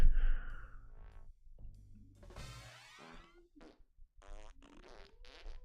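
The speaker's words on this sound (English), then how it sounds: "Symphony of Farts, not a sonata." A rapid run of varied, tonal fart-like noises, some short and buzzy, others long and wavering, sounding close, loud, and comic, with brief gaps between bursts.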